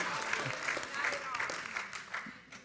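Audience clapping and applauding at a church conference session, a broad crowd patter heard throughout, with a voice talking over it.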